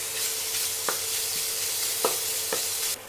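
Mutton keema and chopped onions being stirred in a hot pan, with a steady sizzle and a few scraping knocks of the spoon against the metal, close and fairly loud.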